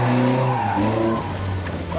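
Car skidding and drifting during a gymkhana session, tires squealing over a strained engine drone for a couple of seconds. The sound is close and loud.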